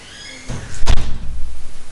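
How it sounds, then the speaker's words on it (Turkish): A room door is pushed shut with a single solid thunk, close and fairly loud, followed by a brief low rumble of movement and no talking. "cidden bir kapıyı kapat"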